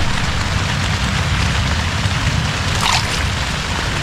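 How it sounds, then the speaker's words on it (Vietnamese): Steady rain falls outdoors at a fishing spot, a dense, even hiss of drops on surfaces that is loud and close throughout, with no voices. "Trời mưa nha"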